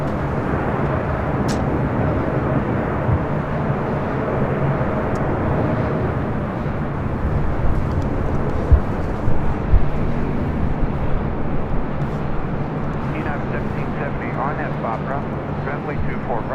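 Airplane taking off at LAX, a loud continuous jet engine roar rumbling steadily throughout, with radio talk over it.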